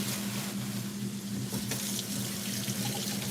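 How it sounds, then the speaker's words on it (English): Tap water runs steadily into a sink while fingers are rinsed under the stream, a continuous close splashing rush with a low hum beneath it. "Okay, so I'm gonna rinse my fingers off here."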